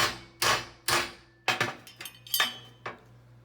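A hammer strikes a center punch to drive rivets out of a steel angle-iron bed frame, giving sharp metallic clinks, about ten blows in an uneven rhythm, close and fairly loud, with no talking.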